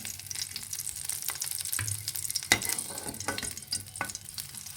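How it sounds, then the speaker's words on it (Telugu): Green chillies frying in a pan for a village-style gongura peanut chutney, giving a steady close sizzle broken by sharp crackles and spatula scrapes as they are stirred. "ఇప్పుడు పచ్చిమిరపకాయలు ఫ్రై చేసుకుందాం"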